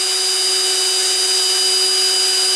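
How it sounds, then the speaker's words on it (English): A steady, loud high-pitched whine of a power drill running continuously while drilling 1/8 inch pilot holes into a wall, with no voices. "I'm going to drill 1/8 inch pilot holes for the screws and a 1/2 inch hole for the toggle."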